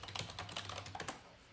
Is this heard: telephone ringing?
no